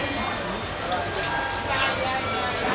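Rain falling steadily on the Woerden Wednesday market, a dense continuous hiss of drops on stalls and surfaces, close and even throughout with faint voices beneath.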